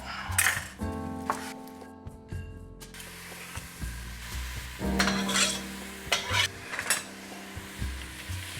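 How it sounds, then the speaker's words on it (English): Onion and garlic sautéing in butter with a little olive oil for a mussel empanada filling, a soft sizzle broken by spoon scrapes, pan clatter and metallic clinks. "saute that onion in about 40 grams of butter with a little bit of olive oil"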